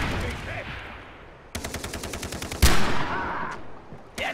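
Rapid gunfire in the video game Far Cry 3, a sniper rifle among the weapons, loud and close: a sustained burst of evenly spaced shots, one sharp heavy crack, then further shots after a pause, with faint talk underneath.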